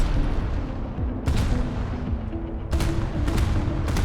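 Cruiser secondary battery guns fire repeatedly in a naval battle game, sharp booming reports arriving in quick irregular bursts over a dense, rumbling background of engine and battle noise.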